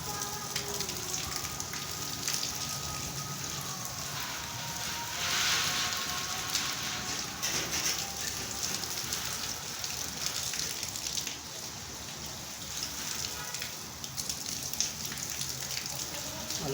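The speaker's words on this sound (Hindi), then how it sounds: "बड़ी तेज़ बारिश है।" Heavy monsoon rain pours down in Jhelum, Pakistan, in a dense, continuous hiss, with steady splashing throughout and no clear voices above it.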